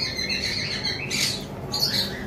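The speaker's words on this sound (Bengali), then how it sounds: "এখানে একটা জোড়া লাভবার্ড রয়েছে" A pair of lovebirds for sale calls continuously and close by, with bursts of shrill squawks and high chirps over steady cage-room background, louder near the middle and end.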